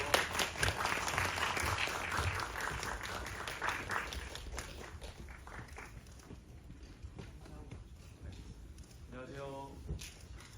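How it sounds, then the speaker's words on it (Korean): Applause from reporters and attendees at a Korean film press conference, a dense, steady patter of clapping that gradually thins and fades, with voices mixed in near the end. "박수 부탁드리겠습니다."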